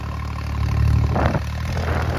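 A farm tractor engine runs with the throttle raised, a close steady low drone that swells slightly as revs climb, with no talk.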